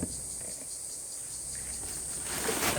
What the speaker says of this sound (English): Oh, the cicadas must have heard me.